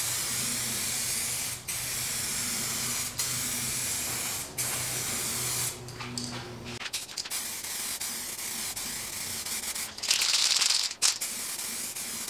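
Spray gun shooting candy and flake paint onto a guitar body: close, continuous hissing bursts broken by short pauses, with a brighter, sharper burst of spray near the end.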